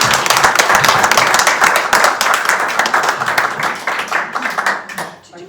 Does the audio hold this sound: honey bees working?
no